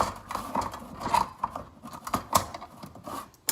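A butter knife pries at a metal can lid, giving a run of small close scrapes, clicks and rasping catches in irregular bursts, with no talking.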